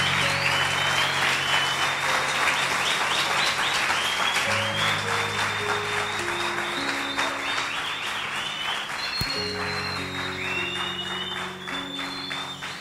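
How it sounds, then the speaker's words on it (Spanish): A church congregation applauds at a worship service, a steady wash of clapping with sustained organ or keyboard chords held underneath, fairly close and even in level. "yo te pido que le des un fuerte aplauso y glorifiques al Señor"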